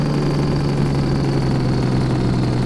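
Steady, loud engine rumble from a fire truck with an engine brake in the FS:911 video game, a continuous low drone with a constant hum and no talking.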